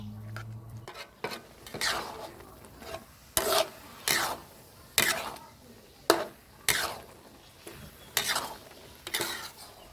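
A spoon scrapes and rasps through thick pineapple jam in a pan, in slow repeated strokes about once a second, close up with no talking.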